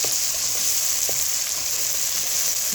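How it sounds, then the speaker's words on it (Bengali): A large chopped onion fries in a pan for chicken curry, giving a constant close sizzle with occasional soft stirring taps and no speech. "আমার পেঁয়াজটা একটু ভাজা ভাজা হয়েছে।"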